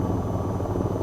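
Helicopter in the VR flight game VTOL VR, a steady loud rotor and engine drone with a dense low rumble, constant and close throughout.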